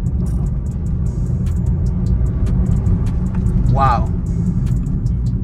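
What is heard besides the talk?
Chevrolet Onix RS turbo car accelerating in third gear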